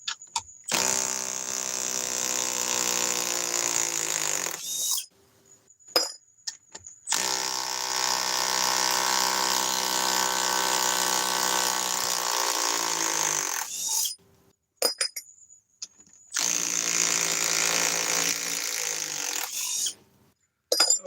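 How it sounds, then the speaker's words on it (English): A Milwaukee M12 stubby impact wrench removes bolts in three loud, sustained bursts of several seconds each, hammering with a dense rattling whine, separated by brief pauses and short blips. "let's go to the M12 stubby and remove the last 3"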